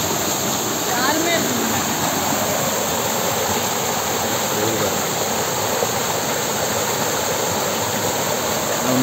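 Courtallam waterfall in Tenkasi roars loudly and continuously, a dense unbroken rush of falling water close by, with faint voices buried in the din.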